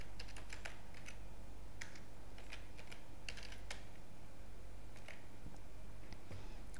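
Fingers type a name and username on a computer keyboard, a run of light, close key clicks in quick irregular bursts with short pauses, over a steady low hum and no talking.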